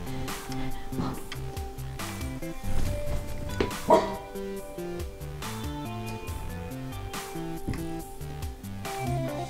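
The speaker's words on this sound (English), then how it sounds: "I hear Logan barking." A dog barking inside a house, a few short barks in the background under louder music and some movement noise.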